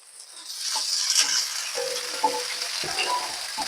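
Pieces of fish sizzle and fry steadily in a hot pan of oil, a dense close crackle with a few stirring clinks, no voice.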